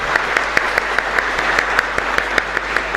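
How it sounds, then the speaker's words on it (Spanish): A congregation at Mass in a chapel in Luque claps in a loud, rhythmic pattern, with regular sharp unison beats repeating steadily throughout. "Fuerte aplauso para el Señor."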